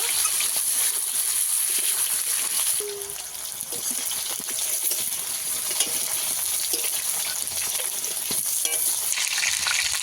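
Potatoes fry in a pan with a dense, continuous loud sizzle that barely dips partway through, broken by occasional faint clicks of stirring.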